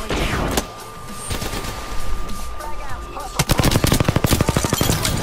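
Apex Legends gunfire: scattered shots and a few bursts come first, then a fast, loud stream of automatic fire, with regular pulses up close, all over a constant game hum.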